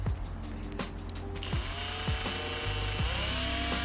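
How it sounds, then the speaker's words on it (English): Power drill boring a pilot hole into the body of a 6th-gen Camaro SS/ZL1 1LE for a wickerbill install, a steady high whine with repeated short bursts and ticks as the bit bites, close and loud. "So now he's gonna drill it. So we're doing a pilot hole first."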